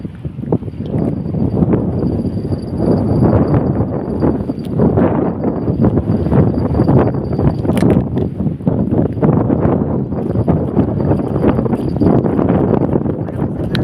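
Steady, loud wind buffets the microphone while fishing, a continuous rough roar with gusty surges and a faint high ringing tone in the background.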